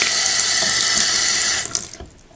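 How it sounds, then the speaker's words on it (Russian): Water gushes steadily from a repaired kitchen mixer tap into the sink, then cuts off abruptly as the tap is closed, leaving near silence. "Горячий течет, холодный течет."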